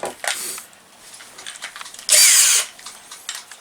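A power drill with a hefty bit runs on a child's art easel build. There are short whirring bursts and clicks, then a loud steady spin of about half a second near the end.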